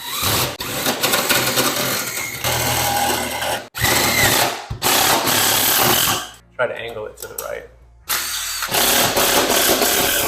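A drill drives a screw into a wooden wall stud while a mini split unit is being mounted, sounding in loud whirring bursts with brief pauses and a strained grind near the end, as people talk throughout.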